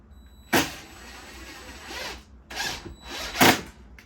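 A screw gun drives screws into a drywall patch in a few separate whirring bursts, each ending in a brief sharp bite, close up with pauses in between and no talk.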